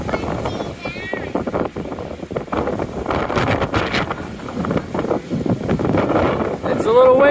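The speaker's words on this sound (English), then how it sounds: "It's a little windy up here." Strong wind buffets and rumbles over a mountain ridge on the Appalachian Trail in Maryland. It is loud and continuous, with voices mixed in.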